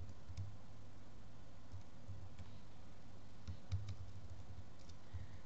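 Typing on a Mac keyboard used in a virtualized Windows setup while coding: a steady run of soft, close key taps over a faint low hum, with no talking.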